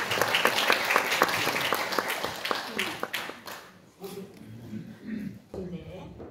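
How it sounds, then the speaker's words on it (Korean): Audience applause welcomes a professor at a Korean liberation anniversary award ceremony. It is lively for about three seconds, then thins and fades, and voices talk through the rest. "김서엽 교수님 나오실 때 박수로 환영하겠습니다"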